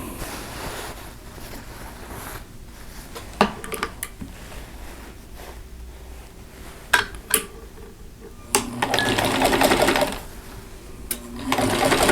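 A sewing machine stitches a quilt seam on a sampler quilt, running in steady bursts with clicks and pauses between passes, close and fairly loud, with no talking over it.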